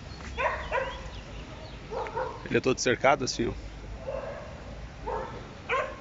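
Several dogs barking in short clustered yips at a distance, mixed with a person talking nearby over outdoor background noise.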